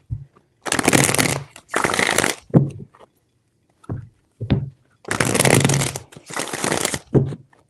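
Tarot cards being shuffled in several separate bursts, each a loud, close riffling rush lasting about a second, with short pauses and faint taps between.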